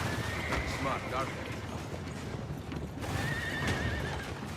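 Horses in Assassin's Creed Brotherhood whinny twice and clatter with galloping hooves, fairly quiet against busy game background and talk.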